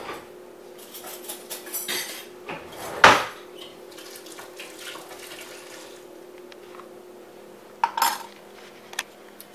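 A spoon clinks against a pot of oxtail stew during tasting, with one sharp metallic knock near the start and a couple of lighter clatters later over faint background hum.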